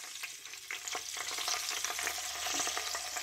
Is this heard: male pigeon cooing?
no